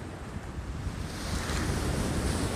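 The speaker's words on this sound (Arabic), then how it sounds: "ولما رأينا هذه الأمواج، أمواج البحر" Sea waves wash and roar in a steady broadband surge, mixed with heavy wind buffeting the microphone. The surf swells louder toward the end, and no voices are heard.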